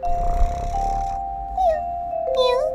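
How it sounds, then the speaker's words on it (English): A cat meows twice in short, rising-and-falling calls over a steady sustained tone in a children's alphabet learning piece. "Meow."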